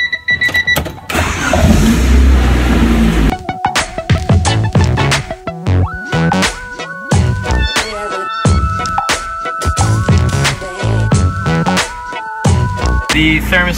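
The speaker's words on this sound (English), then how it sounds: "I'm gonna be turning on the car" A car engine starts after a thermostat replacement, cranking and catching loudly, then running close by with repeated revs and a steady idle, with no talk over it.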